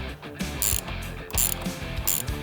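A hand ratchet clicks in quick bursts while tightening nuts on the front splitter of a 2020-2024 Chevrolet Corvette C8, close and crisp, with short pauses between strokes.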